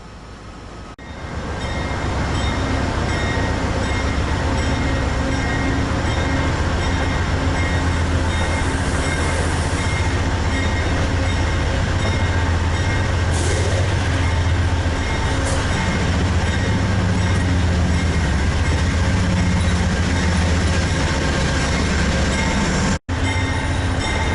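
An Amtrak Pennsylvanian passenger train rumbles steadily in Pittsburgh as it pulls away into storage, a loud continuous rolling roar with a faint squeal and brief hiss bursts, ending in a sharp cut near the end.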